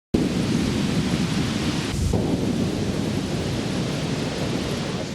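A thunderstorm sound effect with a steady roar of heavy rain and rumbling thunder runs loud and continuous throughout, with a sharper thunder crack near the two-second mark and no voices.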